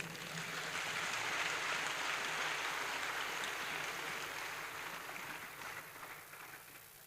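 An audience at a university event on water in Nigeria applauds, a dense, sustained wash of clapping that holds steady and then gradually fades.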